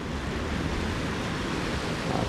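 The Athi river runs fast and high in the rainy season, giving a loud, steady broadband roar of rushing water. The rush is constant and close, with some wind buffeting the microphone.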